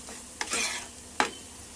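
Turmeric, garam masala and kitchen king spice masala get stirred in a frying pan, two quick scraping strokes rising over a soft background sizzle.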